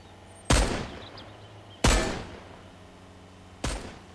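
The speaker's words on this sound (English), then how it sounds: "Stop shooting, stop shooting." Gunfire in the video game Mist Survival, three loud, sharp shots spaced over a few seconds, each trailing off in a short echoing decay, with no talking.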